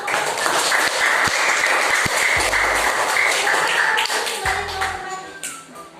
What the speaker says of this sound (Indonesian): Beri tepuk tangan untuk kelompok Renos, beri tepuk tangan